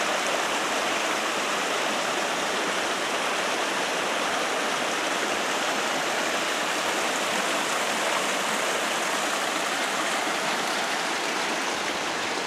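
Water flowing from far off on a rural farm rushes in a dense, unbroken roar like a stream or small fall, loud and steady throughout with no voices.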